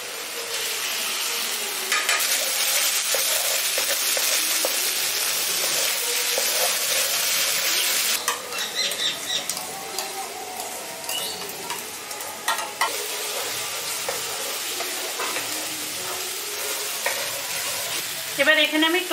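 A spoon of ghee sizzles loudly in a pan for katla fish rezala, with bright continuous crackle and stirring scrapes that ease to a quieter, uneven sizzle partway through, no one speaking.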